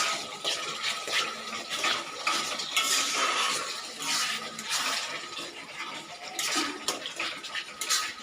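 Chicken curry spices are stirred in a pan, a continuous scraping and clattering of a utensil against metal with a wet sizzle underneath, close and busy throughout.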